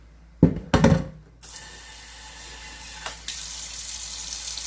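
A couple of clanking knocks as a cooking pot is set under the tap, then water from the faucet runs steadily into it with a brief shift in the flow partway through.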